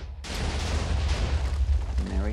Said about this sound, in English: That was my 3 explosions for this video.